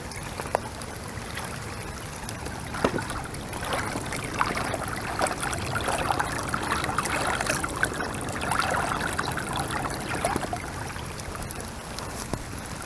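Water pouring steadily from the outlet of a high-capacity channel drain and drainage system, a continuous loud rushing and splashing with no talk.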